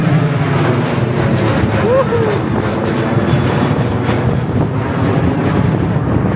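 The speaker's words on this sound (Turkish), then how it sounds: "Of, uçağımız da geçiyor." A loud, steady roar of an airplane passing overhead, broad and rumbling with wind buffeting, while voices talk faintly underneath.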